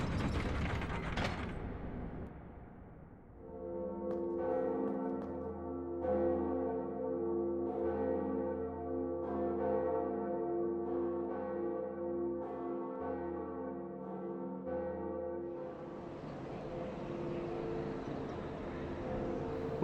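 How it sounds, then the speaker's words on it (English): A church bell tolls in the Dark Souls video game, with a long mechanical ratcheting and gear-grinding sequence carrying repeated resonant bell strikes at a steady rhythm, fairly loud with no talking. "With that done, I could ring the second bell."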